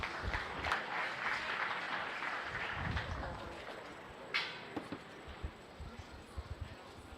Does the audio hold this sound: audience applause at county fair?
yes